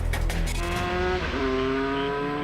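A racing motorcycle takes off at full throttle, the engine note climbing in pitch with a brief dip as it shifts, a loud sustained roar following a burst of rough noise at the start.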